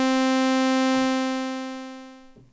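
A sustained synth pad tone from a Korg Monologue, one bright buzzy note rich in harmonics that holds steady and then fades out slowly with a long release, heard alone and close up.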